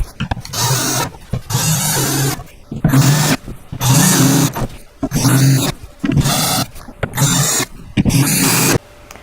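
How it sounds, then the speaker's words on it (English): A power drill drives screws into the panels of a Badger Basket three-bin stackable storage cubby, running in about eight short whirring bursts separated by brief pauses, close and fairly loud. "So let's get these screwed into place."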